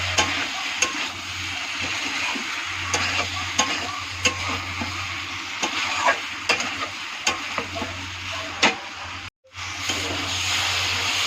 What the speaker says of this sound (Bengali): আলুটা সেম একটা আমি ভালো করে মিক্স করে ভাজা ভাজা করে নেব